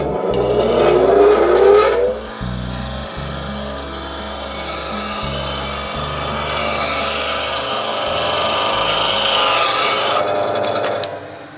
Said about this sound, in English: we've got a nice fresh sharpened tool on the grinder there